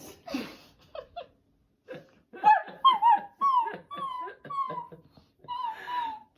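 High, thin whimpers and little whining cries from a puppy, repeated in short bursts with brief pauses, close by and fairly soft.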